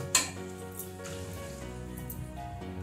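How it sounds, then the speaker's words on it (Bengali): Water poured into fried, oil-releasing masala for a dhokar dalna sets off a soft crackle and hiss, with a brief sharper splash at the start, then a fainter, steady simmering sizzle. "এবার আমি দিয়ে দিচ্ছি পরিমাণ মতো জল"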